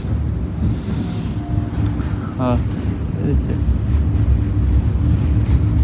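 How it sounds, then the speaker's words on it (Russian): A tram rolls through a city centre with a low, continuous rumble of wheels and motor, a faint chime or ring sounding briefly in the middle, and a voice speaking over the ride. "Трамвай ходит по центру города."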